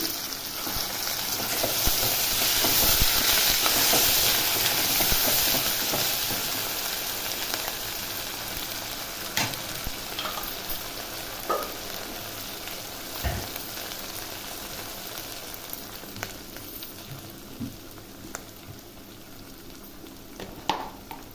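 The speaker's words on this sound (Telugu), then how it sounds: "ఇప్పుడు ఇది పచ్చివాసన పోయే వరకు బాగా వేగనిద్దాము" Onion-tomato paste with coriander powder fries in a pan, a steady close sizzle that is loud at first and then settles, with occasional clinks and stirring taps.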